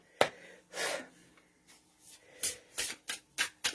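A deck of tarot cards is shuffled by hand in a series of short riffling bursts, close and fairly quiet, with soft breaths in between.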